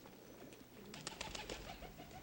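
A pigeon coos in a series of soft, close, throaty calls over a low background hum, in a domestic indoor setting in Rome.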